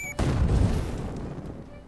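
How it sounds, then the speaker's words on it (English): A grenade explodes in the video game Legend of Keepers: one sudden heavy boom that rolls and fades away over a couple of seconds. "Let's just throw a grenade at him"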